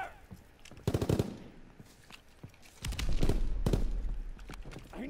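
Bursts of rapid machine-gun fire and single gunshots crack in a World War II shooter game, some close and loud, others more distant, with a low rumble beneath.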